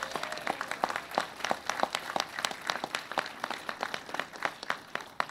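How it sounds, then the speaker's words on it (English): An audience applauds the King County Metro team at a celebration opening a battery-electric bus charging facility, with dense, steady clapping from many hands lasting throughout. "so if you can just give yourselves an applause"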